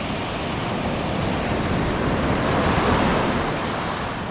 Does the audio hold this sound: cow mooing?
no